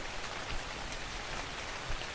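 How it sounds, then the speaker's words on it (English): Steady rain falls throughout in the video game Ark: Survival, a dense, even hiss of drops on surfaces with no talking over it. "And it's raining again."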